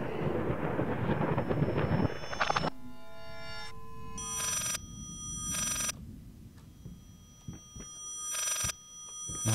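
Telephone bells ringing in the horror video game Layers of Fear, several separate bursts of bright, harmonic ringing with quiet gaps between them, over a low rumbling ambience and without talk.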